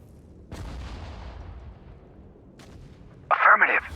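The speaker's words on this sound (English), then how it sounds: "Artillery, fire!" Artillery fire in the Sudden Strike 4 video game, set in the Battle of the Bulge: a deep boom opens, trails into a long rumbling decay, and a second sharp, loud report lands near the end.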